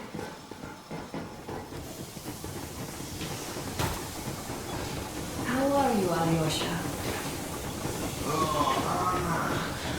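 The Yermak armoured train from Metro Exodus rolls along with a continuous rumbling, hissing drone that swells louder partway through, while people talk over it.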